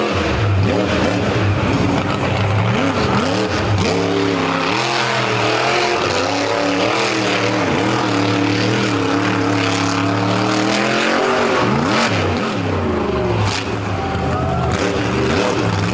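A monster truck known as the Flying Dump Truck roars on a beach course, its engine loud and sustained with rising and falling revs over about sixteen seconds, a crowd and announcer faintly underneath.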